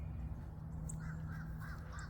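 Crows or ravens caw several times at a distance, faint and repeated over a steady low hum in a morning garden in a Florida food forest.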